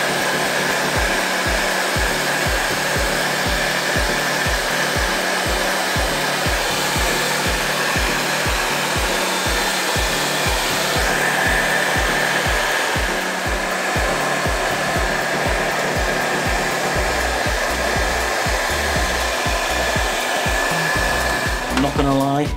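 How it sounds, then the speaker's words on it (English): A heat gun heats an emblem on a Harley-Davidson gas tank in a cold garage. Its loud, steady blower whir runs without a break for the whole stretch, close and alone with no voices. "a heat gun, give it some heat until it starts to come loose"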